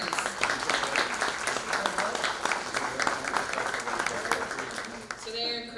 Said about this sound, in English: All right, round of applause for our partners.